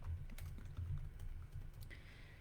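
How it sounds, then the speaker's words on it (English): Quick clattering keystrokes on a computer keyboard run in an uneven burst, close and soft, with no voices over them. "Let me type this."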